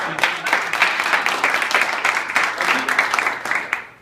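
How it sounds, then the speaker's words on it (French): Applause from a seated audience at a motivational conference talk, a sustained, fairly loud wash of clapping that continues evenly and begins to fade at the very end. "On l'applaudit."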